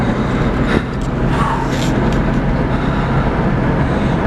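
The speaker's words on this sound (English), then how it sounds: "Anyways, we're in the car." Inside a moving car after a hurried getaway, a loud, steady road and engine rumble fills the cabin with a few faint knocks, and no one speaks.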